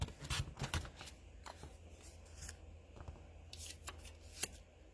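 A paper trimmer slicing squares of patterned craft paper, with soft rustles, slides and short cutting strokes at close range, quiet and intermittent over a faint low hum.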